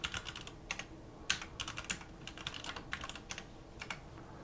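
Quick bursts of computer keyboard typing as commands are entered for a Windows 11 upgrade check, close and fairly busy with short pauses between runs of keystrokes, no voice.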